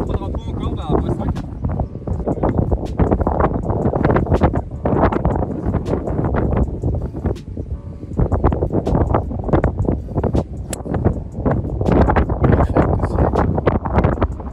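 Gusty wind buffets the microphone on an open golf course, a steady broadband roar with fluctuating gusts running throughout, while people talk over it.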